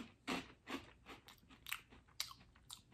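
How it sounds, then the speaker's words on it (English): Dunkin' Caramel Macchiato cereal crunches as it is chewed dry, without milk, a run of sharp, close, quiet bites and grinding chews in steady rhythm. "Yeah, pretty good crunch."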